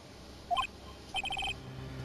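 A two-tone electronic transceiver ringtone from Ace Attorney: Justice for All chirps once, then trills in a quick burst of five or six beeps. The sound is crisp and moderately loud over a faint background hum, with no talking.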